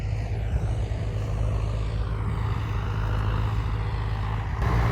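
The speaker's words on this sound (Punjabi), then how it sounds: "ਪੂਰਾ ਜੋਰ ਲੱਗਦਾ ਟਰੈਕਟਰ ਦਾ" A tractor engine pulling a 13-tine plough through a field drones loudly and continuously at close range, its low roar steady and laboring throughout.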